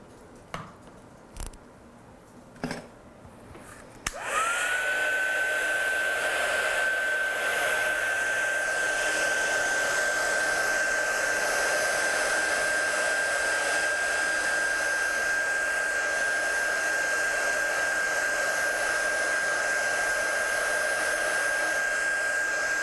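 A handheld hair dryer blowing on freshly applied paint gives a steady, loud whir with a constant high whine that runs unbroken for nearly twenty seconds. It follows a few sharp taps and clicks, heard close up.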